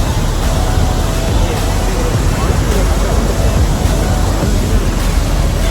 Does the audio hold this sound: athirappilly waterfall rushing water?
yes